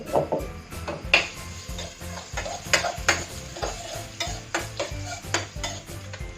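Pounded chili and garlic stir-fried in a hot pan for a Thai spicy seafood dish, sizzling steadily while a utensil scrapes and clacks against the metal in a quick, uneven rhythm, close and fairly loud.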